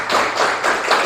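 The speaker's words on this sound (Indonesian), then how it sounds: "kasih tepuk tangan lebih dahulu" Junior high school students clap in a lesson, a short dense patter of hand claps in a few quick pulses, close and fairly loud.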